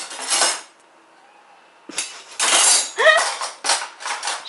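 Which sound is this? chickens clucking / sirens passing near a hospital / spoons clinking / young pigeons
spoons clinking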